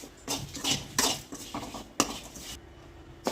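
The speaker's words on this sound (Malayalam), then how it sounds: "നെല്ലിക്ക വലിപ്പത്തിൽ പുളിയും 2 വെളുത്തുള്ളിയും 7-10 കൊച്ചുള്ളിയും കൂടെ നമുക്കാണ്ട് ഞാൻ വറക്കുന്നു" Coconut, dried red chillies, ginger, tamarind, garlic and shallots roasting in a pan for bitter gourd chammanthi, with close metallic scrapes and clinks of a spatula against the pan in irregular bursts.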